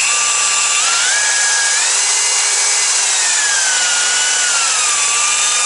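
An electric-motor orbital facing machine with speed control cuts stainless tubing, giving a loud, continuous high-pitched whine and grind with shifting tones.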